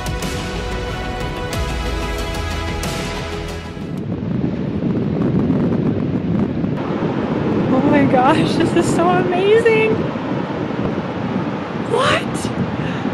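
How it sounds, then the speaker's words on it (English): Ocean waves and wind on a beach at Tofino on the west coast of Vancouver Island: steady roaring surf and buffeting wind throughout, with an excited voice talking over the noise. "Those waves are so huge!"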